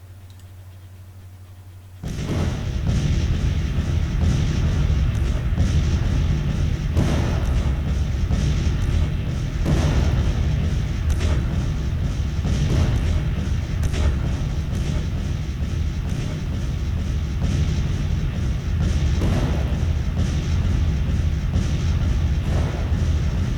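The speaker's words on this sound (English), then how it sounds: "this bombardment is kind of in the Confederates' favor" A Civil War naval bombardment in a strategy game begins abruptly after a quiet start, then rumbles on as a dense, continuous roar of cannon fire with frequent heavy booms and thuds.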